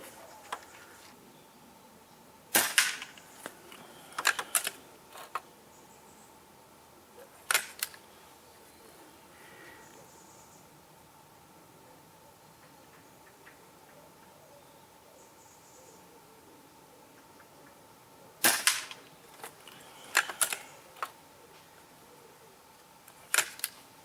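Air rifle shots from a Sandwell Field Sport Imp or BSA Ultra SE being zeroed, heard as sharp short cracks with quick mechanical clicks following them, one cluster early and another near the end, over a quiet outdoor background.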